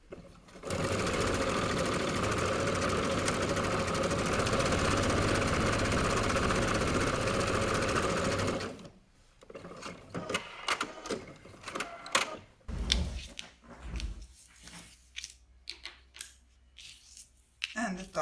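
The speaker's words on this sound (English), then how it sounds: "We're now going to stitch this with a seam allowance of 1/4." Sewing machine stitching a quarter-inch seam in fabric, a steady close mechanical whirr for about eight seconds, then stopping, followed by quieter handling clicks and rustles of the cloth.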